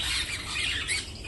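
A pair of budgerigars, a sky-blue and white male and a yellow female, squawk and chatter in their cage in a steady, bright, continuous stream of close, shrill calls with no talking.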